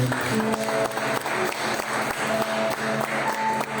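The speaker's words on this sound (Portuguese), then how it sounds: "Você pode aplaudir mais uma vez o Senhor?" A church congregation applauds during a Wednesday worship service, steady dense clapping filling the space throughout, with sustained music tones running underneath.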